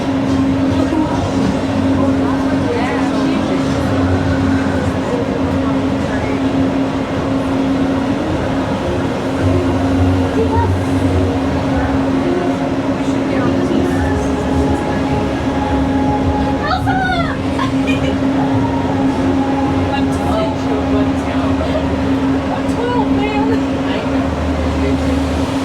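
The Disneyland monorail hums and rumbles steadily as it rides toward the Tomorrowland station, with a constant motor drone throughout and a recorded announcement and voices heard over the train noise.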